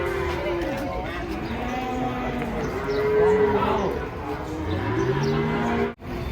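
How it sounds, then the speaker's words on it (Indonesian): Deep, sustained mooing from a herd of cattle at a market rises and falls over steady crowd murmur, with a few calls overlapping near the end. "Rombongan sapi jubu di Pasar Pon"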